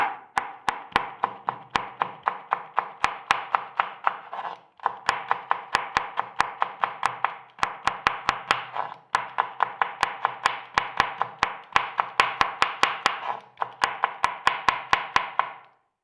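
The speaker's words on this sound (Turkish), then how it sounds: "Biberimi ortadan ikiye ayırdım ve ince ince kıyacağım." A knife finely chopping peppers on a board, quick steady taps in rapid runs with brief pauses, close and clear over a constant background hiss.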